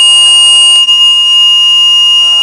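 A smart alarm system's buzzer sounds after a door is opened, a loud, steady high-pitched electronic tone held continuously with a brief dip near the start.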